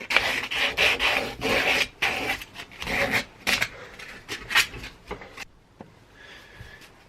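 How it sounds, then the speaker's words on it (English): Sandpaper rubbing the edge of a small wooden disc, a series of close, rhythmic rasping strokes that grow shorter and fainter toward the end. "Just finishing it off with a little bit of sandpaper now."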